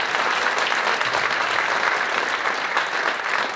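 A crowd at a photography event gives a round of applause to welcome instructors, with dense and energetic clapping that stays loud and unbroken from start to finish.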